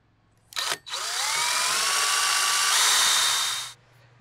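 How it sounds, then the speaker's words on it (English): A 1¾-inch hole saw on a power drill bores into a plastic rainwater tank: a short burst, then one steady, loud whirring cut of about three seconds with rising pitch before it stops. "I have an 1¾-inch hole saw for our 1-inch tank penetration gasket"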